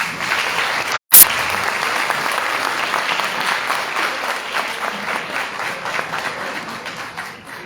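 An audience at a panel discussion on rights gives Eleazar Guerrero Pérez, state undersecretary of finance and administration, steady sustained applause that runs loud throughout, broken by a brief dropout near the start.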